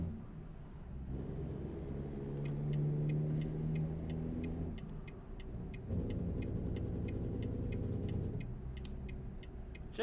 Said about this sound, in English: J-brakes sound pretty good though